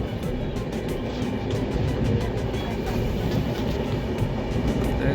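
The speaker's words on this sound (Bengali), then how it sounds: "গতিবেগ নিয়েছে ট্রেন" A delayed train gathering speed on its run out of Balasore toward Puri, heard from on board as a loud, steady rumble with rhythmic clickety-clack from the wheels on the rails.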